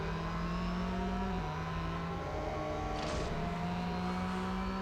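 A Ford GT race car in Real Racing 3 holds a steady, droning engine note at speed, with the pitch dipping slightly partway through before settling again.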